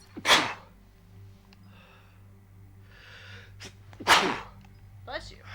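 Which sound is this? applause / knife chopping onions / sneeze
sneeze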